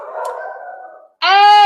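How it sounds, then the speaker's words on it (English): Dogs on a rooftop let out a drawn-out howling wail, then after a brief gap a loud, tonal bark-howl, close and alone without talk. "So they're on the roof, just, you know, barking into the wilderness."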